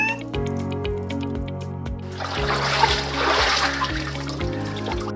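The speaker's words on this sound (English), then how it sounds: "this faucet runs dry?" Water runs from a household faucet in a steady splashing stream, close and continuous, beginning after about two seconds beneath a low musical backing.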